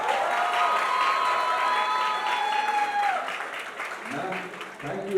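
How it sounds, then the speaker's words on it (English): A college crowd gives a round of applause for the principal, a dense wash of clapping that carries on steadily while people talk over it. "a big round of applause for your principal for giving Mahima this shot."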